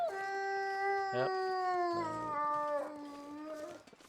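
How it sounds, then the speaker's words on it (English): A wolf howls in the snowy wilderness of the survival game The Long Dark, a long sustained wavering howl with a second voice joining partway through, close and clear, with a brief spoken word over it. "Mr. Wolf is near."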